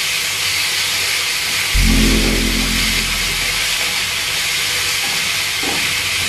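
Beef chunks searing for a stew in a pot with finely minced garlic, a loud constant sizzle and hiss throughout, with a low thump from the pot partway through.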